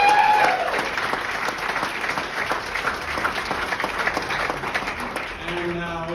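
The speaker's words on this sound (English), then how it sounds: "let's get a big round of applause for the bride and groom" Wedding guests break into sustained applause for the bride and groom at a reception, a dense wash of clapping hands that holds steady for several seconds, with voices mixed in and a trace of music near the end.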